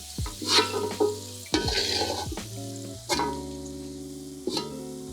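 Steady sizzling of shallots frying in a pan, broken by several scraping stirs of a utensil against the pan at irregular intervals, close and fairly loud.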